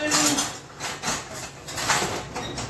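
A big serving spoon is lifted from among dishes while baking morning glory muffins, giving repeated close clinks and rattles of metal and crockery in a steady busy run, with no one speaking.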